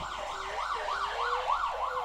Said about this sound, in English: That's a police car.